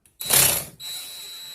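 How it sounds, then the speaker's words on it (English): Drill spinning in reverse to twist coil wire: a short whirring burst of about half a second, then a thinner steady whine that continues at lower level, close and alone. "I put the drill in reverse and spin back."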